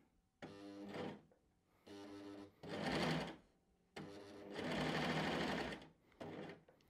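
A Bernette b68 Maker coverstitch sewing machine stitches in several start-stop runs, each a fast, steady mechanical whir that halts abruptly before starting again.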